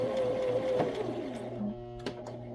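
A sewing machine stitches a wool diaper cover with a fast, even whir that runs for over a second and then stops. A few light mechanical clicks and knocks follow.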